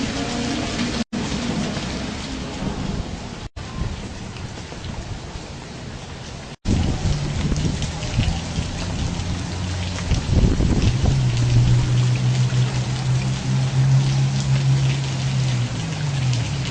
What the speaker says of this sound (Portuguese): Chuva não para